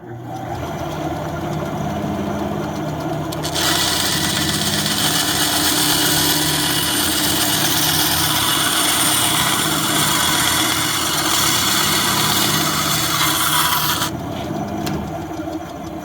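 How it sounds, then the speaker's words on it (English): A power saw whines through a block of wood in one long continuous cut, loud and close, rising at the start of the cut and dropping off at the end, with no talking. "I'm ready to make the first cut"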